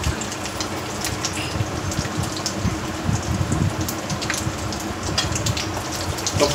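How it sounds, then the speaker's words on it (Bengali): Five-spice seeds and a dry red chilli crackle and sizzle in hot oil left from frying hilsa fish, a dense, continuous spitting hiss with scattered sharp pops throughout. "তো তুলে নিয়ে ওই তেলে একটু 5 ফোড়ন আর একটা শুকনো লঙ্কা ফাটিয়ে দেব।"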